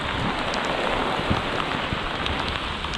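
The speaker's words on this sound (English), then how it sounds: "Man, that rain is coming down hard now." Heavy rain pours steadily at a flooded building project site near a house, a dense, loud hiss of drops on surfaces with no let-up and no voices.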